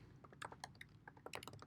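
Keys clatter on a computer keyboard in a short, quiet burst of irregular clicks, with uneven rapid taps close by and no voices.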